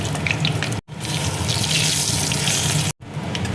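Panch phoron spices sizzle in hot oil in a kadai, a loud, close, hissing crackle that runs steadily with two brief breaks.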